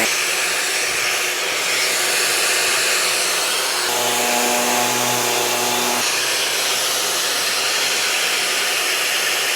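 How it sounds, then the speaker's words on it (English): Electric sander running steadily on a wooden piece, a loud, continuous close whirring hiss with a slight shift in pitch midway as it works across the surface, no talking. "Let the sander stay flat and work around it."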